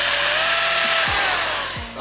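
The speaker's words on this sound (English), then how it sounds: "the screen will go dark and a drilling sound can be heard" A drill whirs steadily through a video game's darkened scene, loud, continuous and grinding, with a rising mechanical whine and a few deep thumps near the end.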